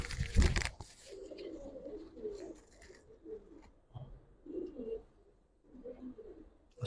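Giribaz pigeons of the Old Dhaka breed coo in soft, low, repeated phrases at close range, with a brief loud rustle or flutter at the start and quiet gaps between the calls.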